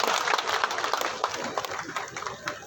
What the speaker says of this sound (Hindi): मैं चाहूंगा कि आप भी एक बार जोरदार तालियों के साथ उनका स्वागत और सम्मान करें।